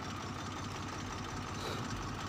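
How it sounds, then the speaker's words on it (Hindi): A second-hand Swaraj tractor engine idles just after starting, a steady, close, low chugging rumble with no talk. "किसान भाइयों, ट्रैक्टर स्टार्ट हो गया है।"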